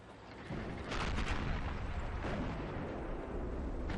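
Tank cannon fire in a World War II tank battle video game, featuring the VK 45.02 (P) Ausf. B, comes as a heavy, sustained booming rumble that swells after half a second and rolls on loudly throughout.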